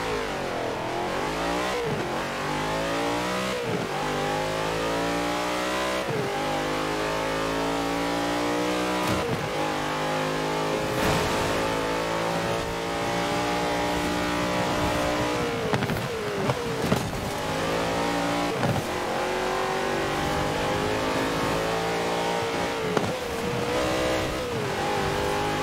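A sports car, likely an Ascari, revs hard while driving in Forza Horizon 4, its engine pitch climbing and dropping through repeated gear shifts, loud and continuous with no talking.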